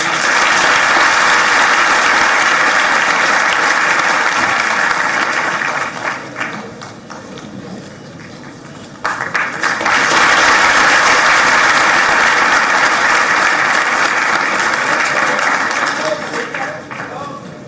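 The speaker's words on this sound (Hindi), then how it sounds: "जोरदार तालियों से" Loud, sustained applause from an audience at a government event in Bhopal honoring the Chief Minister, with a brief dip in the middle before the clapping surges again and fades near the end.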